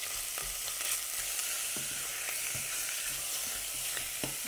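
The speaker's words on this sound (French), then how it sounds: "Je vais rajouter ma viande dans l'huile." Ground beef sizzling in hot oil for beef samosa filling, a steady bright crackle with occasional stirring taps, moderately close and without speech.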